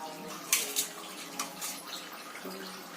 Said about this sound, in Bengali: এবার তরকারিটা আমি এখানে ঢেলে ফেলব।